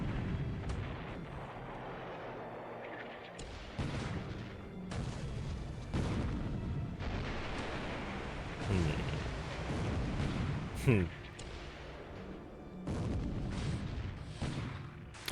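A warship opens fire with its guns in the naval strategy game War in the Pacific: Admiral's Edition, a series of deep booming blasts spread through the stretch while voices talk over them.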